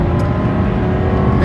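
A Lexus LS400 engine drones loudly and steadily as the car is driven flat out on a canyon road, a continuous low roar heard from inside the car with no talk over it.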